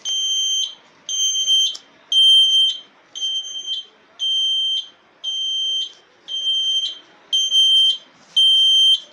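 An indicator buzzer fitted to a Hero motorcycle emits nine loud, shrill electronic beeps in a steady on-off rhythm, each lasting about half a second and separated by short silences.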